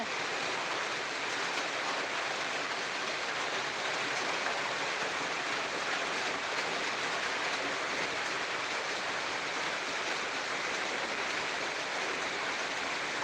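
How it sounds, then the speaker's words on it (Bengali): Rain falls steadily on a rooftop garden of potted fruit trees, a dense, even hiss that holds constant throughout without any talking. "আর দেখতে পাচ্ছ বন্ধুরা বৃষ্টি পড়ছে আমাদের এখানে"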